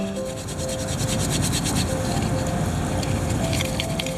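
Steady, close scrubbing against the mud-caked engine of a Honda NC700X motorcycle makes a continuous, gritty rubbing sound with small rhythmic strokes throughout.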